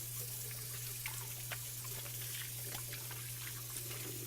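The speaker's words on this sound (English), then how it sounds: "I get it washing my hands real fast." Running tap water while hands are washed at a kitchen sink, a steady gentle splash and trickle with small irregular spatters over a constant low hum, quiet and close with no talking.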